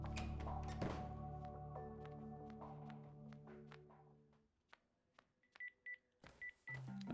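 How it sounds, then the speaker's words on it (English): A phone message notification in the detective video game BROK the InvestiGator: a string of short electronic beeps and tones over fading game music, then isolated chirping alert blips against near silence. "Oh, we got a phone. We got a message."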